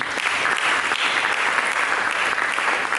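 Applause from a church congregation during a sermon, a steady wash of many hands clapping at a constant level from start to finish.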